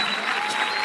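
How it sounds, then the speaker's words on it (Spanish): A church congregation applauds during a Christian worship service, a brief dense wash of steady clapping from a crowd. "Aplauso más fuerte"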